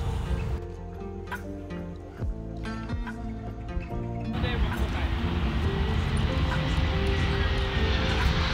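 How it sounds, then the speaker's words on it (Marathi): An airplane takes off near the Museum of Flight in Seattle, a broad engine roar that swells and stays loud and steady after the first few seconds, with a voice speaking faintly at the start. "इथे सारखी विमानं टेक ऑफ होत आहेत"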